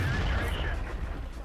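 Artillery fire in the World of Tanks tank game, a dense low rumble of booming shots running steadily through the whole clip with a speaking voice over it.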